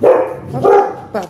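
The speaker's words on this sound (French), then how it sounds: "il y a mon chien qui aboie." A dog barks indoors in a few loud, close bursts, with short pauses between them; a brief word is spoken alongside.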